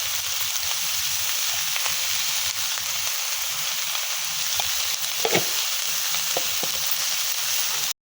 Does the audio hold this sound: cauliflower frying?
yes